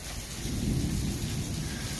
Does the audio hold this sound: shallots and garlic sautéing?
no